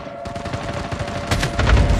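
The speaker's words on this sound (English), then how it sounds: "There's someone shooting." Rapid gunfire in a battle royale video game, a dense burst of shots rattling over a steady tone, growing louder toward the end of the short clip.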